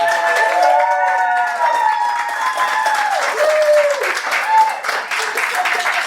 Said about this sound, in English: For me, that was their first round of applause